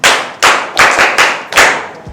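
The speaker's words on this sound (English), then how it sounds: "Clap for him." Students in a classroom clap for a classmate, giving several short, close bursts of applause in quick succession over about two seconds, then stopping.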